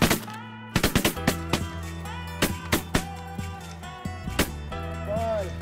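Shotguns fire at ducks during a snowy duck and goose hunt, a rapid volley of loud, close blasts in quick bursts with scattered follow-up shots, while hunters shout over the shooting.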